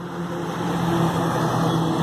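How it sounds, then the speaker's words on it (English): A big truck rumbles past outdoors, its low engine drone swelling slightly and holding steady for a couple of seconds with no talk. "Big truck going by, sorry about the noise."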